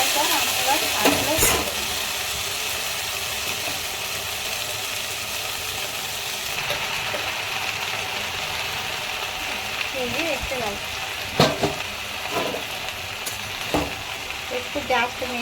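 Mixed vegetables and Malabar spinach greens stir-fried in a hot pan, a continuous close sizzle with scraping spatula strokes and a few sharp clatters toward the end.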